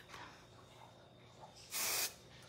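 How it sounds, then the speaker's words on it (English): A travel-size bottle of hairspray gives one short, steady hiss as it sets a styled swoop of hair, clear and close after a quiet stretch. "Spray that swoop."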